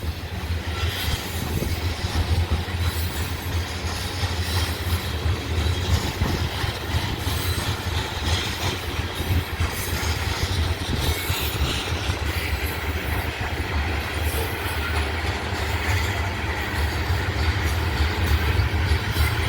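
A freight train rolls steadily past near Abbeville and Greenwood, a continuous loud rumble of cars and wheels with faint squeals, never easing for the whole stretch.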